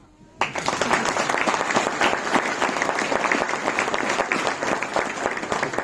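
A crowd at a mayor's speech gives a loud, sustained round of clapping that starts abruptly after a short pause and carries on evenly, with no voices over it.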